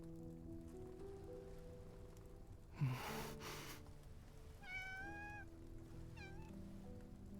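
A cat meows twice in the video game Love and Deepspace, short rising mewls over a soft steady music bed, with a brief rustle just before.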